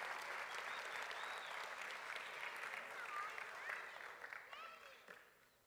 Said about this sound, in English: Can we give Tangle Blue a round of applause